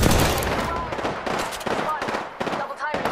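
Rapid bursts of gunfire in the Xbox video game Apex Legends, several quick volleys and single shots spaced across a few seconds, close and loud, with brief speech mixed in.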